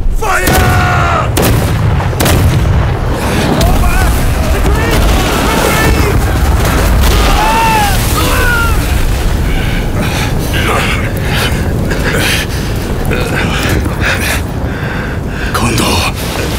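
Heavy artillery fire from troops in the samurai-era game Rise of the Rōnin: loud, dense booms and blasts roll continuously through a chaotic battle, with shouting voices mixed into the din.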